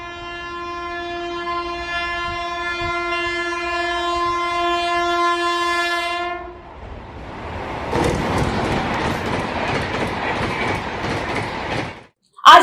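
A train sounds a long steady horn blast for several seconds, then its cars rumble and clatter past on the rails in a continuous loud roar that ends abruptly.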